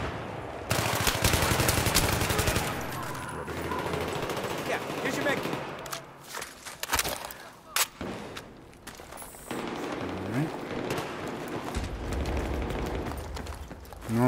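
Sustained automatic gunfire in Battlefield 3 during a team deathmatch on Azadi Palace, loud dense rattling bursts with brief pauses and clanking mechanical sounds between them.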